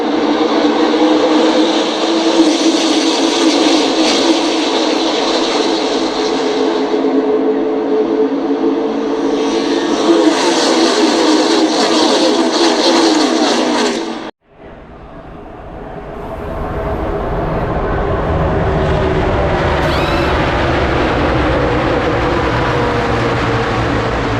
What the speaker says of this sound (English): We're racing at Talladega.